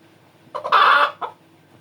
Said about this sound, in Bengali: মুরগি চুলার ভিতরে ডিম পাড়তাছি।